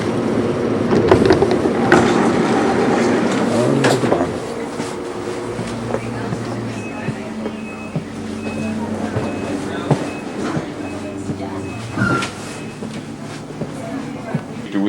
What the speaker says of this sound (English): Okay, the train has arrived.